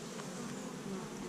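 Calm honeybees hum at their hive over frames of wax foundation with nectar being stored, a steady close-up droning buzz that continues without a break and with no voices.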